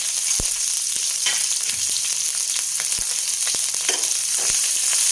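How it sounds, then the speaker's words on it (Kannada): Cumin seeds, pepper and green chillies spluttering in hot oil, a loud, dense, continuous fry with scattered sharp pops and crackles throughout, no voices. "ಇದು ಸ್ವಲ್ಪ ಸಿಡಿಬೇಕು ಜೀರಿಗೆ ಮೆಣಸು ಆ ನಂತರ ಹಸಿಮೆಣಸಿನ್ಕಾಯಿ"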